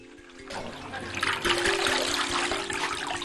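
Chinese cabbage is shocked in cold water after blanching, giving a steady close splashing and trickling wash of water that swells after the first half second and continues to the end, with no voices.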